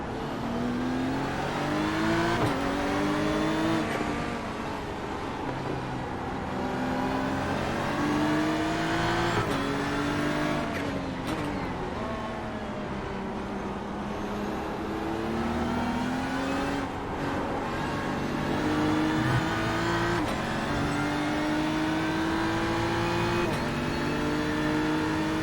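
Ferrari and Porsche race car engines roar around the Nürburgring in iRacing, continuous high-revving whine with repeated rising pitch sweeps through gear changes and braking, loud and steady throughout with no talk.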